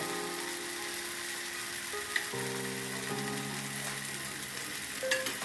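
Jowar dosa sizzling in oil on a hot pan, a steady crackling fry with a few faint tonal clinks over it, no voices.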